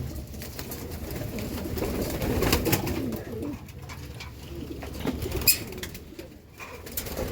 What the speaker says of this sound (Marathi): तर हे रेसिंग कबूतर बघू शकता तुम्ही, जास्त क्वांटिटीमध्ये रेसिंग कबूतर आहेत.